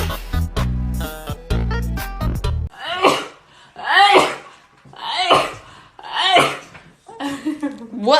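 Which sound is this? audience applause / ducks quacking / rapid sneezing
rapid sneezing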